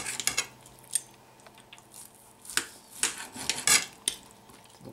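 A knife cuts tender corned beef on a plate, giving scattered clinks and scrapes of metal on crockery in short irregular bursts, close and fairly quiet.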